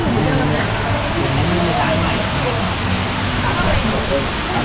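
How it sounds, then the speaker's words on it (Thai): An artificial waterfall at a restaurant pours in a steady, dense rush of falling water, continuous and fairly loud, with a faint murmur of voices mixed into the wash. "น้ำตก แล้วก็มี หมอกลงมาเก๋ ๆ"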